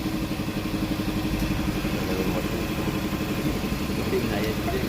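A repaired Maruti Ertiga diesel engine idling with a steady, fast clattering rumble at close range in a garage workshop.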